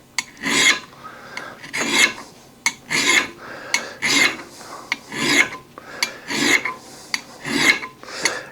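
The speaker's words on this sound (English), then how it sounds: "We're letting the file do the work." Hand file rasping along the factory-cut bevel of a drum mower blade, a steady series of about eight even front-to-back strokes, close and fairly loud, each a bright scraping rasp with short pauses between, no voices.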